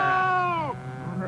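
A sheep bleats once, close and loud, in a long wavering call that bends downward and breaks off, with a faint second bleat following.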